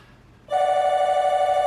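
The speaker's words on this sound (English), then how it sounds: "There's a phone call too." A telephone starts ringing in an auto repair shop, a loud electronic trill that kicks in abruptly and continues steadily after a quiet moment.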